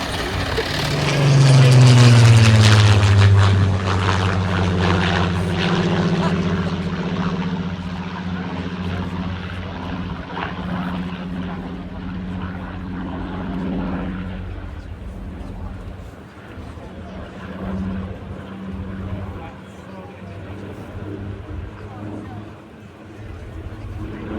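A Spitfire's propeller engine roars loudly as the plane flies past, a deep droning growl that peaks early and then fades into a steady distant rumble.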